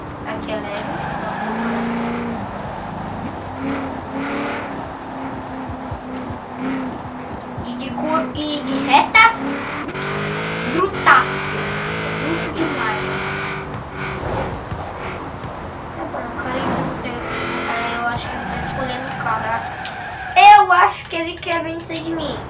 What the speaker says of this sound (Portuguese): Vou dar uma voltinha aqui pra vocês verem como esse Camaro pode ser bruto.